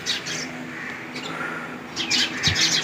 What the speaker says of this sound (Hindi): ये सारी चिड़ियाँ जो है ना बाहर बैठी हैं अभी घोंसलों से बाहर निकल रही हैं